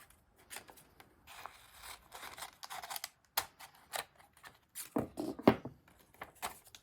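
Scissors or a craft knife cutting a piece out of a model part during model building, heard as a series of close, quiet snips and rustles in irregular bursts with no talking.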